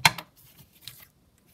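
A small flower embellishment is cut away from a strip of trim while making a junk journal tag, giving one sharp close snip followed by a couple of softer clicks in an otherwise quiet room, with no talking.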